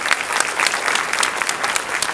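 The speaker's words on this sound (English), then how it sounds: "Let's give them a round of applause." Audience at a Mother's Day luncheon and fashion show breaking into steady, full applause, a dense roomful of clapping hands that holds at even loudness.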